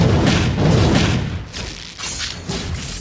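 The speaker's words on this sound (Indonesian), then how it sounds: "Tembakan hujan api." A fire rain shot skill effect in a mobile battle game: a dense barrage of booming, thudding impacts rolls on for about three seconds, loud and close, with no voices over it.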